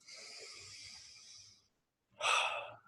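A person takes a slow, deep breath through the nose and mouth lasting about a second and a half, then after a short pause lets out a stronger, louder exhale, close and alone.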